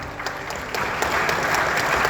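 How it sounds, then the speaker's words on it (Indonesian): Applause from an audience at an Indonesian public event, a dense, steady clapping that builds slightly louder over about two seconds with no voices over it. "Kita tepuk tangan."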